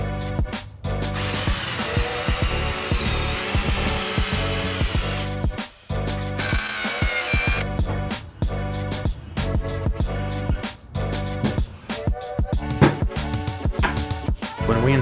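A power drill drives a leg screw into a wooden tripod light stand, whirring loud and close in repeated bursts with short stops and ratcheting chatter between them.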